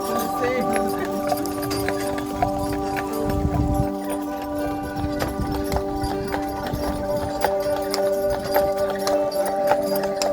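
Horse hooves clip-clop steadily on a street on Mackinac Island, near and rhythmic, with a voice talking over them and faint background hum.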